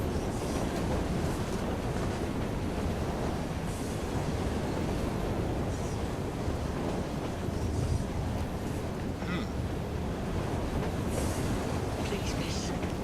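A train in the Assassin's Creed Syndicate video game rumbles and rattles steadily at close range, a dense continuous roar of rolling wagons that never lets up from start to finish.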